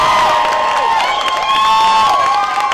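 Loud, close crowd cheering and applauding at an outdoor freedom rally on the Isle of Wight, with whoops and shouts over continuous clapping for the whole stretch.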